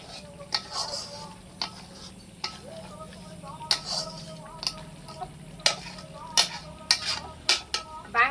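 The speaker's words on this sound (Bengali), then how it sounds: "এটা মিট মশলা নিয়েছি, দিয়ে দেব মিট মশলাটা। ভালোভাবে নেড়ে নেব।" Mutton with meat masala is stirred in a pan, a faint low sizzle under soft scraping and clinks of a spoon against metal at irregular moments, close by and quiet.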